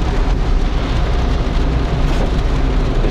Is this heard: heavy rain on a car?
yes